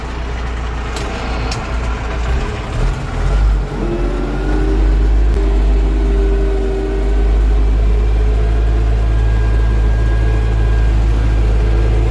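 Tractor ploughing post-harvest soybean stubble, labouring uphill with all four wheels scraping and digging a rut; a loud, steady low engine drone under strain runs throughout with no talk.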